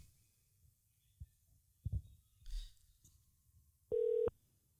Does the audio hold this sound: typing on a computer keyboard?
no